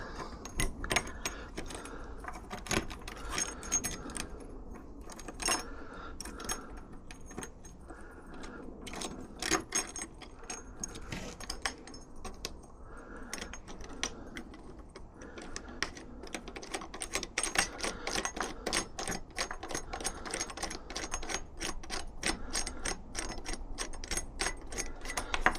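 Screws are worked loose from the lock of a store cupboard, a long run of small, close metallic clicks, rattles and scrapes, sparse at first and growing dense and busy later, with no talk.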